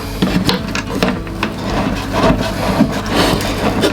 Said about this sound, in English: And then we tighten up our wing nut, not all the way